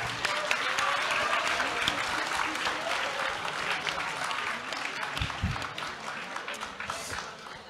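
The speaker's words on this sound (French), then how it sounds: "On peut applaudir, effectivement. Vous pouvez applaudir." A dense, steady round of audience applause fills a conference hall at the Teen's Up Bordeaux 2022 event, loud and continuous throughout, with a voice faintly speaking beneath the clapping.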